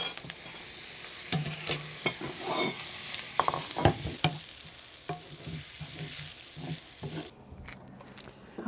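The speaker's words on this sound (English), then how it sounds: "So I like to finish them in the pot with the bacon. Brown them just a little bit if you can." Pierogies browning with bacon and onion in a pot, giving a steady close sizzle and frying hiss broken by repeated stirring scrapes and clatters, with no talking.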